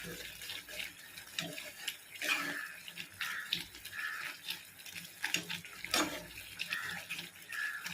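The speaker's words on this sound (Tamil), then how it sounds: "புளி கரைச்சி புளியை ஊற்றி" Dissolved tamarind water is poured into a pot for tomato rasam, making a splashing, trickling pour in uneven bursts while someone talks.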